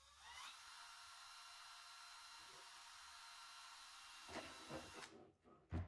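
A power drill whines steadily at high speed for several seconds making a pilot hole in an RC car body shell, then winds down with a few clunks at the end.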